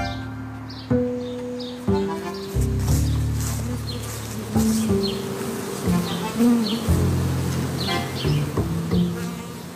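A swarm of honeybees buzzing, a dense continuous drone with individual bees passing close by in short whining sweeps, near and fairly loud, while dull knocks and thuds sound now and then beneath it.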